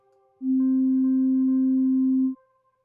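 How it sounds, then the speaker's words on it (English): A pure, steady sine tone from a Reaktor synthesizer oscillator sounds alone for about two seconds, smooth and unwavering, then cuts off. "that's just a sine wave"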